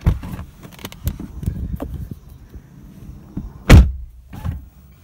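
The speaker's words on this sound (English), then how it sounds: "Extremely solid door shut." Solid door shut on a 2018 Lexus LC500h coupe, heard from inside as one heavy, close thunk after a few light rustles and taps.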